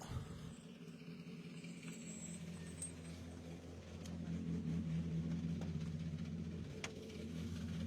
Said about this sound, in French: on va accueillir le numéro 210, Thierry Guetto, associé à Sébastien Scholl, sur la BMW M3